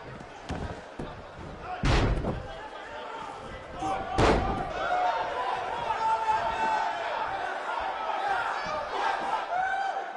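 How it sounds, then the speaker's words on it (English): Sold-out, record-setting arena crowd roars in the WWE 2K19 wrestling game, a steady wash of cheering with two sharp slams, while a commentator talks over it. "We have a sold-out, record-setting crowd."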